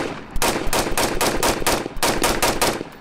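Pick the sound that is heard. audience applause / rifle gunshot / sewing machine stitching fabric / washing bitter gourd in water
rifle gunshot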